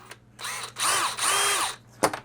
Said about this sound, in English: I'm going to drill a hole favoring toward me on that slot.